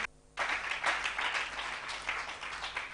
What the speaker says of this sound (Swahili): Muhurire makofi